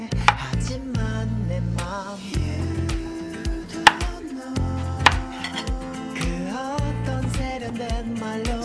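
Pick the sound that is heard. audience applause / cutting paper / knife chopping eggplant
knife chopping eggplant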